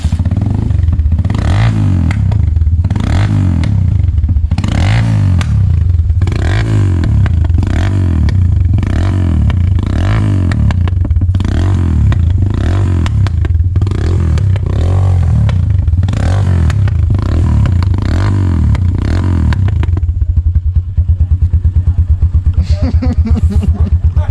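A motorcycle engine revs hard again and again in a steady pulsing rhythm, loud and close, with clattering mechanical noise throughout.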